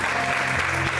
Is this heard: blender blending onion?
no